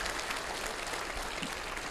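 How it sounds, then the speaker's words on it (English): An audience at a college induction ceremony applauds, a dense, steady wash of clapping that holds evenly throughout at moderate volume, with no speech. "So give her a round of applause."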